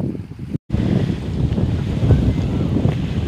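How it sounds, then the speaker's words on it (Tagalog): Steady wind at Tambobo Bay in Siaton, Philippines, buffets the microphone with a deep, rumbling roar that continues almost without pause, broken only by one brief dropout. "Yung hangin, masarap pakinggan."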